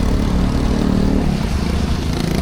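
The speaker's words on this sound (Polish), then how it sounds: "Jadymy na pierwszą wycieczkę na skuterze." A small rented motor scooter engine drones steadily up close, with rushing wind noise over the ride on Panglao, Bohol, in the Philippines.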